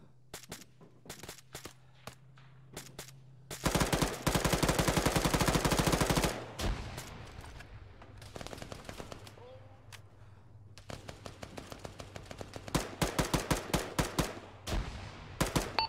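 Heavy .50 calibre machine gun on a technical in Arma 3, firing long sustained bursts with a dense roar in the middle, then shorter bursts and scattered shots, loud and close.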